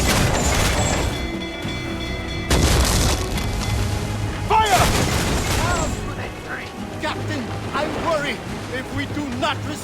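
Ship cannons fire in Assassin's Creed Freedom Cry, a run of loud booming blasts at sea over rumbling waves and creaking, with shouted crew voices and talk mixed in throughout.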